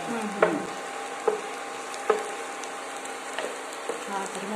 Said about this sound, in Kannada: ಕೊಬ್ಬರಿನೇ ಹುರಿಯುತ್ತಲ್ಲ